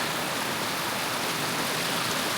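Steady rushing water fills the scene, a continuous broadband flow of Bull Creek in northern New Mexico running close by, with no voices.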